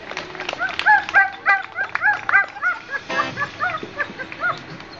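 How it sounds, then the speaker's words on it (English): A dog whimpers and yips in a series of short, excited bursts, with a few barks, fairly close at an outdoor Canada Day gathering in Campbellford, with faint voices behind. "The dog's happy."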